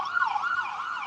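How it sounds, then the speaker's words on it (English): An ambulance siren passing along a street near a fire station, a brief wailing tone rising and falling, moderately loud and heard on its own. "we're gonna hear a loud siren from an ambulance"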